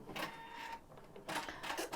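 An embroidery machine stitches quilting stitches in ivory thread on a hooped quilt block, a close, steady mechanical whirring that pauses briefly midway and then resumes.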